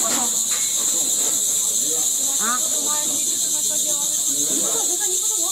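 Cicadas at an insect market in Shanghai keep up a steady, piercing high-pitched drone, loud and continuous, while crowd voices and chatter murmur underneath.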